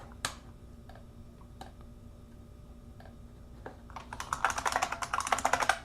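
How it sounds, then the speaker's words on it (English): A mechanical computer keyboard typed on in a few isolated clicks at first, then a rapid, dense burst of clattering keystrokes toward the end, close and fairly loud, with no talking. "How do you guys like the sound of my keyboard?"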